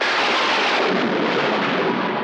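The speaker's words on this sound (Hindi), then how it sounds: "सुना सुना तुम लोगों ने सुना बादल गरज रहे हैं" Thunder rolls in loud and close, a dense, steady rumble that fills the whole stretch without breaks and with no voices over it.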